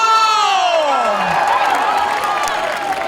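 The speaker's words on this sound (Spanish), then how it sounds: "¿y dónde está ese aplauso?" A concert audience cheers and applauds loudly at a live performance, a dense continuous wash of crowd noise with singing and tonal music sweeping beneath it.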